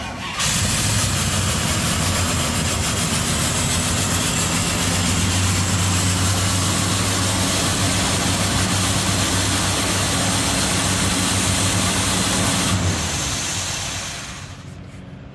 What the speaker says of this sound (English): so we're gonna go ahead and fire it up here.